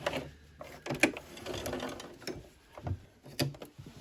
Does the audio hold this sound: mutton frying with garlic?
no